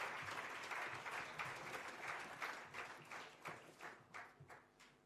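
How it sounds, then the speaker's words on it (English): Audience at a swimming awards ceremony applauding the coaches as they leave the stage, dense loud clapping that thins into scattered claps toward the end. "Can we have a big round of applause for all our coaches as they walk off the stage?"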